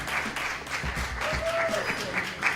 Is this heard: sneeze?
no